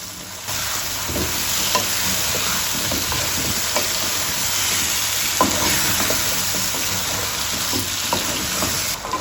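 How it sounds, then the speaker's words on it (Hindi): Diced potatoes and onions fry in hot oil for an eggplant curry, giving a loud, continuous sizzle with occasional stirring scrapes and clinks of the utensil. "इसकी भुनाई साथ प्याज के साथ भुनाई भी हो जाएगी।"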